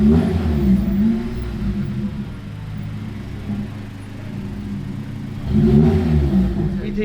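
A street car at an Osaka Kanjo meet revs its engine with a raspy exhaust, a loud burst at the start, a lower steady rumble through the middle, then another close rev near the end.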